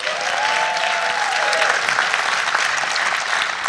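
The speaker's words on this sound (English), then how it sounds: "let's hear some applause." A live audience at an annual summit bursts into sustained applause, a dense, steady wash of clapping that holds at even loudness throughout, with a faint tonal whistle or cheer sliding through early on.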